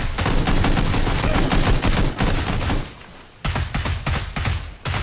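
Gunfire in the battle-royale video game PUBG: loud, close bursts of rapid automatic shots in dense volleys, a brief lull, then more rattling bursts, with no talk over them.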